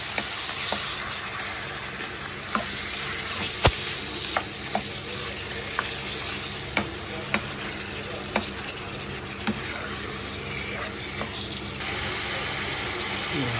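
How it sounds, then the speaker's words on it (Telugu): Lamb innards frying with mustard seeds and curry leaves, a dense continuous sizzle with occasional sharp pops and spoon taps against the pan throughout. "ఆవాలు, కరివేపాకు వేసుకొని బాగా ఫ్రై అయ్యాక ఇవన్నీ దాంట్లో వేసుకోవాలి."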